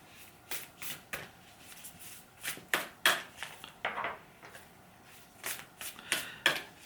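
Tarot cards being shuffled by hand, a steady run of crisp riffling bursts that repeat at an even pace, close and distinct, with no one talking.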